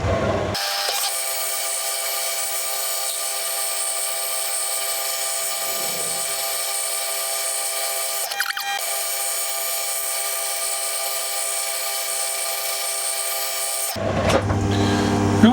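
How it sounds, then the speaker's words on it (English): A metal lathe turning a spring centre on its first cut gives a steady, even, tonal machine whine with one brief knock midway, then stops near the end. "So let's turn the lathe on and let's start doing our first cut."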